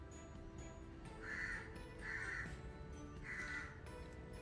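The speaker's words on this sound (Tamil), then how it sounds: "ஸோ காக்கா சத்தம் அங்கே கேட்குது." A crow caws three times at a moderate distance outdoors, the calls spaced about a second apart over a quiet background hum.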